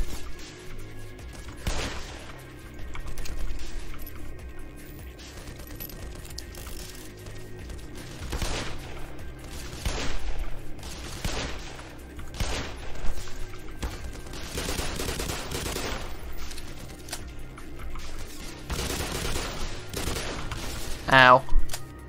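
Long-range gunfire from a first-person shooter game, Half-Life, crackling in repeated bursts and single shots across the stretch over a steady game background, with occasional talk mixed in.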